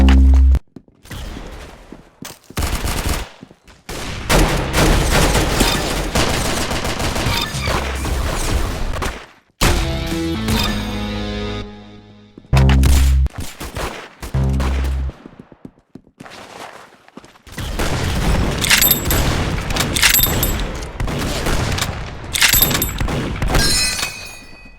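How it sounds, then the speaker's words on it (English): Loud gunfire fills the scene in repeated bursts and sharp single shots, some rapid like automatic fire, broken by brief silences and heavy impacts. "Good shot, mate. You got his head. Very good shooting."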